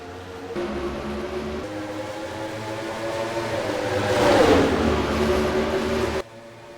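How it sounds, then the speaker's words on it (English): Stock cars racing at Monza roar past as a steady engine drone that swells louder mid-way as a car draws near, then cuts off abruptly. "We're green flag racing here at Monza"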